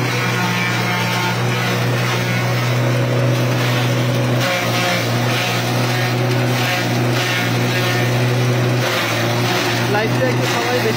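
A mini combine silage cutter runs steadily with a constant low mechanical drone and hum, loud and continuous throughout, with faint voices mixed in beneath the machine noise.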